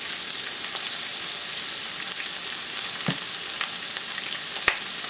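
Turkey pieces browning in a pressure cooker, a dense, even crackling sizzle close by with a few sharp pops, no voices.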